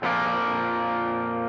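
A single sustained distorted electric guitar chord rings out through a Fractal FM3 MKII Turbo preset, loud and close, decaying slowly with a thick, saturated tone and no talking.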